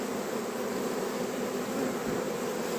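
Honey bees buzz at an evening hive in a Turkish apiary: a dense, continuous hum from many insects close by, steady throughout with no voices.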